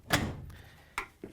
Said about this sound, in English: we can close the washer door.